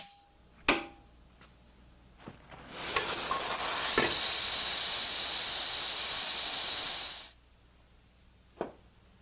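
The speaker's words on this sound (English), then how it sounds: "The saw is heated to 800 degrees Celsius and rapidly cooled in oil." A hot saw blade, heated to 800 degrees Celsius, plunges into rapeseed oil for hardening and sends up a loud, steady sizzling hiss lasting several seconds before it cuts off, with a few sharp knocks before and after.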